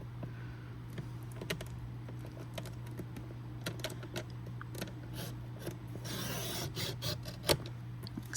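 A paper trimmer slicing junk journal paper, giving soft, scratchy rasps and faint clicks over a steady low hum, with a louder swishing cut near the end and no talking.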